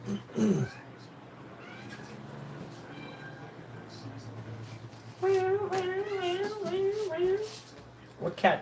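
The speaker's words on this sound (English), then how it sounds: "Fern, what sound does a cat make?" A pet cat meows several times indoors, a short cry at the start and a longer drawn-out run of meows in the second half, close and fairly loud over a steady low hum.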